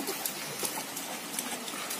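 Heavy rain pours in a steady, dense hiss with scattered drop impacts, continuous and fairly faint throughout.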